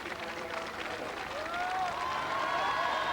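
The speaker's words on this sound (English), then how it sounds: "And the crowd roaring those athletes on" A marathon crowd at the finish cheers and applauds the runners, a broad sustained roar that swells slightly, with a commentator's voice over it.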